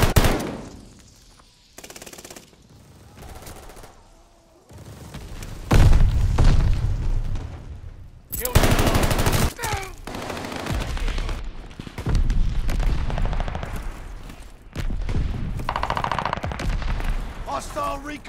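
Rapid gunfire and heavy shell blasts in Call of Duty Vanguard, with bursts of machine-gun fire and loud booming impacts coming in uneven waves between quieter gaps, and in-game voices shouting over the combat.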